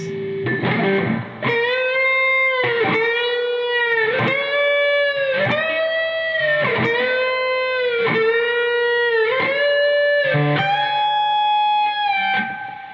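Distorted electric guitar plays the interlude at full speed, a loud, steady run of repeated picked phrases with sustained harmonic-rich notes, ringing alone without any voice over it.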